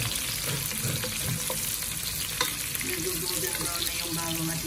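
Onion, garlic and ginger frying in a pan, a steady close sizzle with faint stirring and light clinks throughout, no clear talk.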